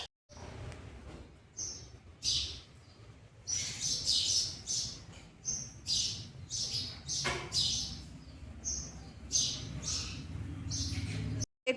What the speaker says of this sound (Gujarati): ચકલી કેટલી બધી છે.